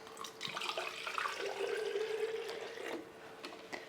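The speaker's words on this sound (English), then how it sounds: "I'm just gonna water this really quick just to get some water up in here." Water is poured from a container into an indoor potted plant, a soft, faint trickle and splash lasting a few seconds.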